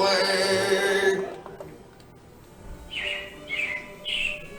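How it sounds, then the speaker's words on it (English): Robins in a Disney Carousel of Progress scene give a few short chirps in quick succession after loud music cuts off, moderately near and clear against a quiet background. "it looks like the Robins are getting ready to celebrate Valentine's Day today"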